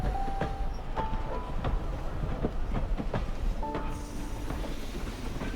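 A railroad train engine rolls along the track at a distance, with steady low rumble and a loose rhythm of clicks and clanks from the wheels, plus a few faint tonal squeals, moderately quiet with no talk.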